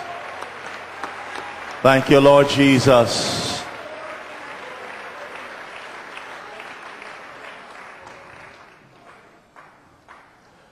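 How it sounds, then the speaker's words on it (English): Church congregation clapping hands in a short, loud burst of about two seconds during a worship sermon, surrounded by a preacher's voice and crowd noise that tail off afterward. "clap your hands, O ye people, and shout unto God with a voice of triumph"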